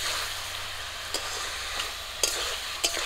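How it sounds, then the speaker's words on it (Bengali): Pabda fish being fried in a thick spice paste and stirred in the pan: a continuous close sizzle broken by a few sharp scrapes of the spoon against the pan. "মাছটা দেওয়ার পর আবারও কিছুক্ষণ একটু কষিয়ে নেব"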